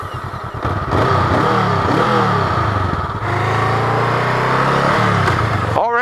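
A Honda Rebel motorcycle engine cranks and catches, then revs up and down in loud, close bursts before settling into a steady idle, with a brief clatter at the end.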